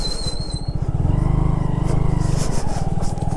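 A motorbike ridden up to a mud house in an Indian village in the morning, its engine putting close and loud, revving and then idling down as the bike comes to a stop, with a brief squeak at the start.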